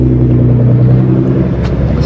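A Nissan GT-R pulls up nearby, its engine giving a loud, steady low rumble with a smooth idling drone throughout and no voices over it.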